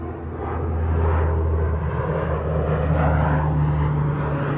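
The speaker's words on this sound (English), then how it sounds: "This C-130 flying low over California." A C-130 aircraft flies low overhead in California, its propeller engines producing a loud, steady droning roar that swells slightly and holds.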